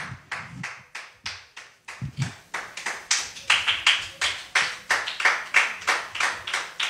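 A church congregation claps in unison to acclaim the Lord, a steady rhythmic beat of many hands, sparse at first and then fuller and louder, with no talking over it.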